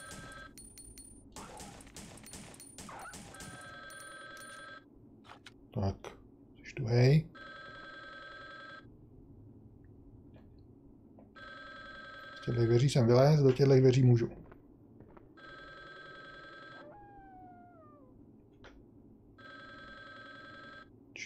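Telephone ringing in the PlayStation video game Resident Evil Survivor: repeated bursts of electronic ringing, each lasting about a second, separated by pauses, heard under someone talking, with footsteps and brief gunfire-like bangs.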